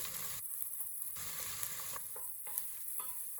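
A spoonful of tomato paste fries in a pot with garlic for a Turkish stew, giving a steady sizzle broken by short scraping stirs.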